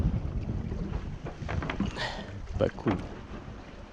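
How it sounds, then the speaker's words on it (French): Wind gusting over an offshore Mini 6.50 racing sailboat, a low rumbling buffet with water and hull noise, moderately loud and steady, with a brief spoken remark in the middle. "Et le vent il s'est levé par là aussi."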